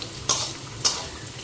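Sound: sautéing potatoes in a pan

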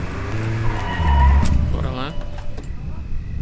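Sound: car parking in a video game

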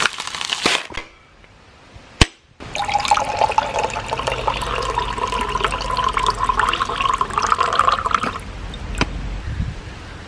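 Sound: water poured onto prawns in a cooking pan

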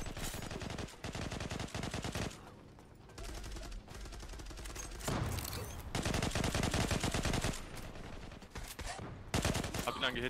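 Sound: gunfire in video game Zula

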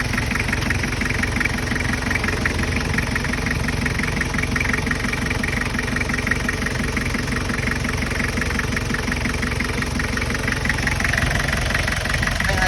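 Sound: Toyota Mighty pickup engine idling smoothly

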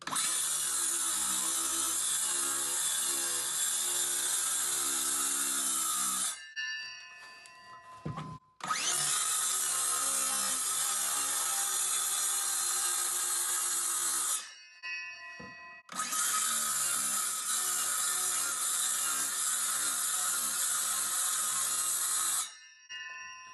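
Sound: multi-tool saw cutting through chipboard floor

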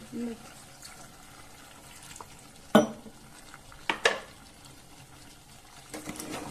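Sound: stirring chicken curry gravy

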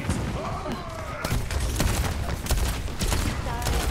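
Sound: explosions and gunfire in the video game Overwatch 2

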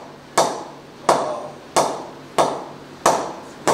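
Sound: English willow cricket bat being tapped

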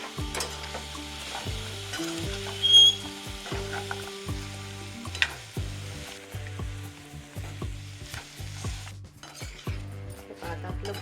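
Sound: stirring raw mango and jaggery in a pan

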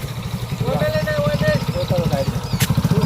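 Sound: motorcycle engine idling

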